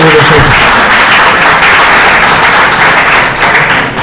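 A seated group at a coding class claps loudly and continuously for a few seconds, the dense clatter close and even, easing slightly at the very end.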